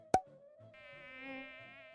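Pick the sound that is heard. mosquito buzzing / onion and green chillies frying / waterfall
mosquito buzzing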